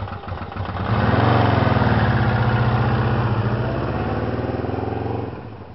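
Motorcycle engine catching after a kickstart and settling into a loud, close, steady running rumble for several seconds, then dropping away at the end.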